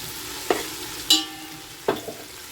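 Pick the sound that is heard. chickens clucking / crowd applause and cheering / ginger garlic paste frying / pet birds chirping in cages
ginger garlic paste frying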